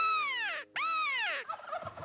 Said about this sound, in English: and get a gobble